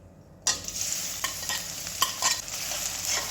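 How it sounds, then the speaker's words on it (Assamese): Onions drop into hot oil in a kadai and sizzle, with a spoon scraping and stirring in uneven strokes while the frying hiss continues close up. "তেলখিনি গৰম হৈ গ'ল। মই এতিয়া পিঁয়াজখিনি দি দিছোঁ।"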